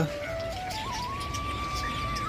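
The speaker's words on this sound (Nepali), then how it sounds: "बडजेरिक अरे बडजेरिक टन्नै छ नि सानसानो चराहरू भित्र" Small budgerigars chirp and twitter inside an enclosure at Jawalakhel Central Zoo in Nepal, a thin steady whistle-like call rising over a dense, continuous wash of background noise.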